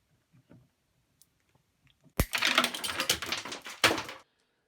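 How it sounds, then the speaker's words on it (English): Side cutters snip through the metal wire running inside old, hardened natural rubber furniture wheel tyre, a sharp snap followed by a couple of seconds of dense clicking and crunching handling noise, then a second crisp cut, close and fairly loud. "I just need to use side cutters to cut that off"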